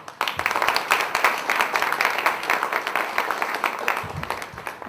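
An audience at a Nama Sankeerthana devotional music festival breaks into steady, dense applause. Many hands clap together close by and keep it up for several seconds before it begins to thin out.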